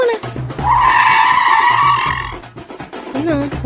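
A vehicle swings sharply around with a loud, sustained tire squeal lasting about two seconds over engine noise, close by, with people talking before and after.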